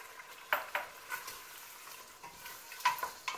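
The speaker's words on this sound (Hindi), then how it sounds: "मैं ऑयल शामिल कर दूंगी।" Mutton with mustard greens sizzles in hot oil in a pot on full heat, a soft steady frying hiss broken by several sharp scraping knocks of a spoon stirring against the metal.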